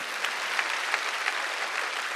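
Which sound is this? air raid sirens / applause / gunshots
applause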